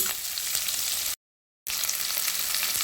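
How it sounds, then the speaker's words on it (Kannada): Chopped onion fries in a little oil for a paneer masala gravy, giving a steady, close hiss of sizzling that cuts out briefly in the middle before resuming. "ಸ್ವಲ್ಪ ಆಯಿಲಲ್ಲೇ ಈರುಳ್ಳಿ ಹಸಿ ವಾಸನೆ ಹೋಗೋವರೆಗೂ ಈ ರೀತಿ ಫ್ರೈ ಮಾಡ್ಕೊಳ್ಳಿ"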